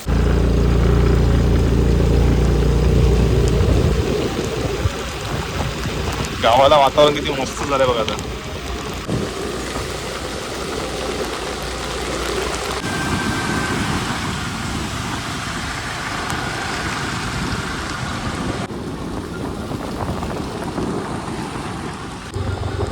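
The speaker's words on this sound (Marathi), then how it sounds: "हा पाऊस काय थांबणार दिसत नाही" Heavy monsoon rain pouring down around a village road, a dense, steady hiss that is loudest at the start and then continues under someone talking close by.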